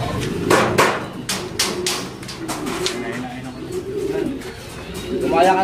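Racing derby pigeons cooing close by in a loft, with soft repeated coos mixed with tapping, fluttering and people's voices in the background.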